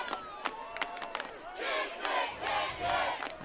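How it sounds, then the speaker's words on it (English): Football crowd chanting in the stands at Metz Cherry Stadium late in a Class 3 District 1 final, a loud, rhythmic swell of many voices rising and falling in repeated bursts. "the crowd chanting district champions here at Metz Cherry Stadium"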